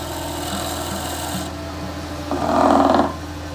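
A lathe turns a wooden shaving-brush handle under steady motor hum, and a fine cut with the tool gives a brief, rising rasp of shavings coming off the wood.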